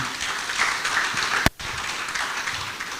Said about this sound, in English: can we give a round of applause to him?